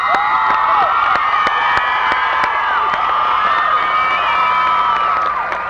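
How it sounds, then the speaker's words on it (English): A large crowd at a 1985 high school commencement ceremony claps and cheers continuously, with whoops and shouts rising over the steady applause. "Let's give the young ladies a round of applause."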